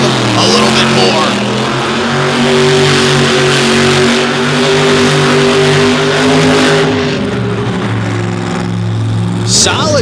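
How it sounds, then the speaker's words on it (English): A race car at a 2023 All Stars event at Lake Erie spins tire-smoking donuts, its engine roaring and revving loudly and continuously for ten seconds while a voice talks over the noise. "These fans here love to watch these guys smoke these tires."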